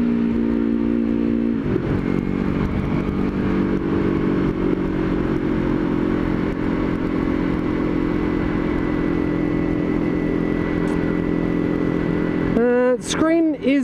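A Yamaha R3 motorcycle engine drones with a steady, close tone while riding, then revs in quick rising bursts near the end; a voice talks over it.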